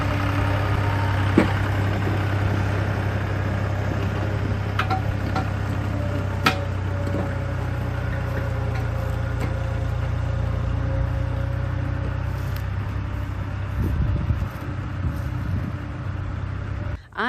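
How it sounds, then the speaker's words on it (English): A farm tractor smoothing a dirt road runs with a steady, low droning engine at moderate distance. Occasional clanks and knocks break through, and the engine shifts near the end. "on the tractor working on smoothing out the road down to the back of the property"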